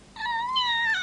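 A cat lets out a single drawn-out, high, clear meow that rises slightly in pitch, close and loud, after a moment of quiet.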